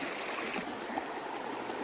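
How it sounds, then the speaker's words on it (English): The Fork River flowing at a wild meadow campsite: a soft, continuous rushing and trickling wash of water, steady and fairly faint, with no talking over it. "This is the Fork River."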